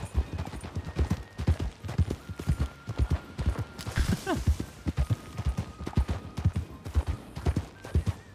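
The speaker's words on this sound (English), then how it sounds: "You got to slow down for my horse here." Steady clip-clop of horse hooves in a video game, in a quick, even rhythm, close and fairly loud, with a brief burst of higher clatter partway through.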